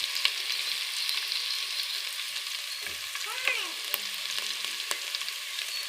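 Green garlic and ginger paste dropped into hot oil tempering for a Gujarati flat bean curry, giving a continuous bright sizzle with occasional scraping clicks of stirring. A brief, faint whistle-like tone rises near the middle.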